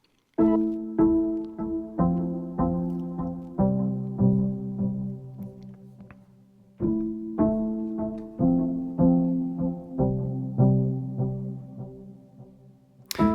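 Gentle plucked guitar-like notes of a cinematic post-rock intro ring out in soft, repeating phrases, mellow and muffled, with a pause midway before the pattern resumes; no voices.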